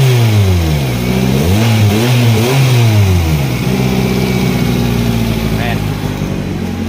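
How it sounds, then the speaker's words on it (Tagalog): A Kia Picanto engine with a noisy exhaust revs up and down several times close by, the pitch rising and falling before settling into a rough idle. "Tambutso po yung maingay mga ka-experience."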